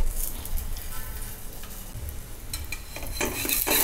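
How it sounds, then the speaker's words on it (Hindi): A jaggery-stuffed paratha sizzles in ghee on a hot tawa, a steady close frying hiss with scraping and clinks of a spatula toward the end, no talk. "तवा गर्म हो चुका है, थोड़ा सा हम इसके ऊपर घी अप्लाई कर लेते हैं और चलिए इस पराठे को हम डाल देते हैं सेकने के लिए।"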